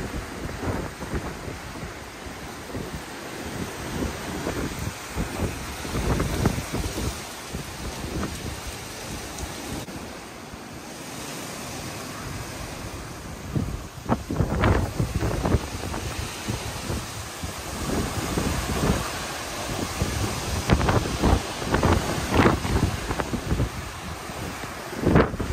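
Strong storm wind gusting outdoors past evergreen trees and bamboo, a roaring, buffeting rush against the microphone that swells and surges in waves, loud and continuous without talk.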